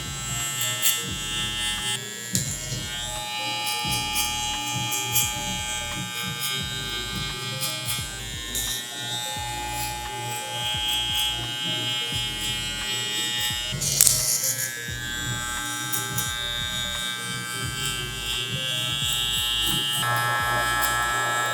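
Electric hair clippers with a 0.5 guard and the lever open blend a home haircut, giving a steady, close, continuous buzz that shifts slightly in pitch as the blade moves through the hair.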